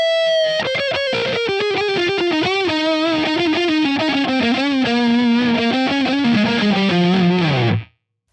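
A fast electric guitar solo played clean and dry through an amp's solo channel with no pedals, rapid picked notes running up and down before stopping abruptly near the end.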